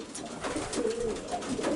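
Racing pigeons in a loft on the day they are basketed for a young-bird race, cooing softly and continuously over a steady background of rustling and murmuring, with no talk.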